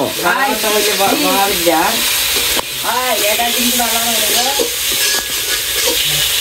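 Fish frying in oil: a steady high sizzle runs under nearly continuous talking voices, with a short break in the middle.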